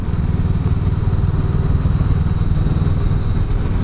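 Loud, steady motorcycle engine drone from riding a Honda Rebel 500 and Suzuki GSX-S125 on a winding mountain road, a continuous low rumble with no break.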